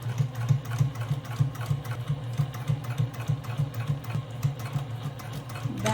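A sewing machine back-stitching fabric for a hobo bag hums in quick, even pulses, close and steady, running alone throughout.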